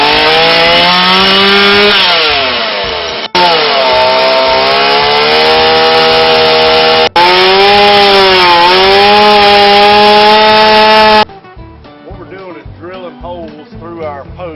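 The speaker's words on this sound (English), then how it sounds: "we're getting ready to cut into the top of these posts" A hand saw rasps steadily through the top of a timber post in long, continuous strokes with brief pauses between passes, loud and close, then tapers into softer, scattered scraping.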